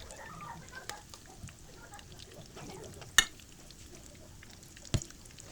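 Chicken potato cutlets fry in a pan with a soft, steady sizzle and faint stirring, broken by a couple of sharper clicks and pops.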